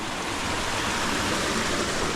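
Steady rushing water from a stream flowing down a forested hillside, a dense continuous wash without breaks, close and fairly loud, with no voices.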